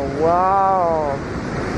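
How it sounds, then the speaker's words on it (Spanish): Rushing water from a waterfall near Guadalupe, Antioquia, Colombia, makes a loud, steady broadband roar. A voice speaks briefly over it. "Qué fuerza la que se escucha aquí con la que corre el agua."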